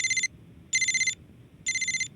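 A phone rings in three short electronic bursts with even gaps, clear and moderately loud over a quiet low background, in a scene from the anime Death Note.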